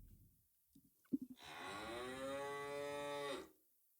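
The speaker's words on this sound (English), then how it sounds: "Cow moo." A cow moo sound effect: one long, loud bellow lasting about two seconds with a rich harmonic tone, preceded by a few soft knocks and clicks, then silence.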